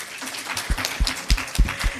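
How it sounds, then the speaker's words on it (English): Audience applause for a debate team at a public sector debate competition, a short round of scattered clapping with a few distinct individual claps standing out. "Round of applause for them."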